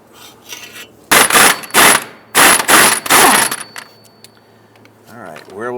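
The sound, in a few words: breaker bar loosening a rusty nut and bolt on a Toyota Tundra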